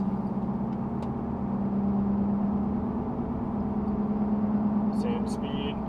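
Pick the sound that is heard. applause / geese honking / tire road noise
tire road noise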